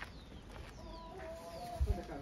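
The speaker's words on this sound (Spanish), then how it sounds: "ya las gallinas prácticamente comen a la perfección" Hens feeding on maize scattered on the ground give soft, faint clucks and short calls, with light pecking and shuffling nearby and a small thud near the end.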